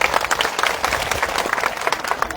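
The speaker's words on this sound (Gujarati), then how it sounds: "એમના માટે એકવાર તાળીઓ થઈ જાય" Audience applause at a farmers' gathering, a steady burst of many hands clapping together for a few seconds, dense and fairly loud with no voices on top.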